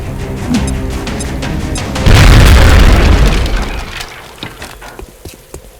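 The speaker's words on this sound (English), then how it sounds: "Now toss your grenade at the enemy in front of you." Grenade blast in XCOM: Enemy Within, a loud close boom with a rumbling, crackling tail of falling debris after a few light clicks and scattered effects.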